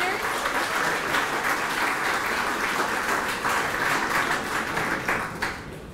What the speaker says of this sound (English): let's give one more round of applause for all of the Berks Arts Award winners